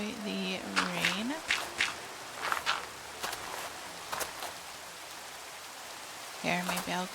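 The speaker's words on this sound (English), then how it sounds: "So we'll just enjoy the rain." Rain falling in Minecraft, a soft steady patter underlying game footsteps and clicks, with short tonal in-game animal calls at the start and end.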